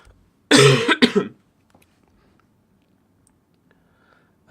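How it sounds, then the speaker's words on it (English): Two harsh coughs from a tickly throat in quick succession, close and loud, followed by a long stretch of quiet room tone. "It's a little bit tickly, so I have been coughing a little bit."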